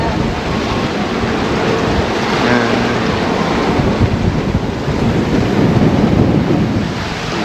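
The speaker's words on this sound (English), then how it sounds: "We have wind of 24, 25 knots" Strong 24 to 25 knot wind roars steadily and buffets the microphone while waves wash against a sailboat running downwind under genoa, a loud continuous rumble with surges of surf and no talk.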